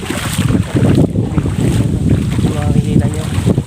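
Strong wind by the Abuan River roars continuously into the microphone, a loud, gusty rush that buffets steadily for a few seconds with no clear break.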